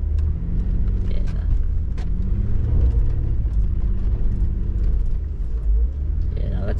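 A modified Adventra off-road car with a TrueTrac differential rumbles steadily from inside the cabin, with a low continuous drone and some engine revving.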